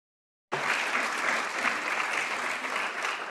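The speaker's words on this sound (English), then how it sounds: "as you can hear from the rounds of applause here" Steady applause from an audience filling a European Parliament chamber, starting abruptly and holding even and dense throughout, close and full with no voices above it.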